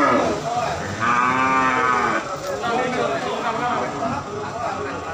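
Simmental cattle at a sale let out a loud, drawn-out moo close by, then a second lower call, while people talk over the lowing in the background.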